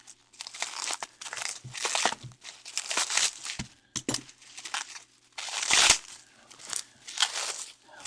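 Tape being cut and bubble wrap pulled apart while unboxing a lot of secondhand HO scale model train wagons, loud close crinkling, crackling and tearing in bursts with short pauses, no talking.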